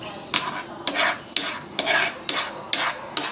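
Tomato sauce with a pinch of salt is stirred in a pan: about seven distinct scraping strokes in a regular rhythm, close and clear, over a faint sizzle.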